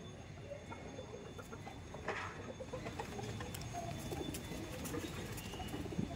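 Tournament racing pigeons kept for sale in Madhyamgram coo softly and repeatedly from a crowded loft, faint and continuous over a low background hum.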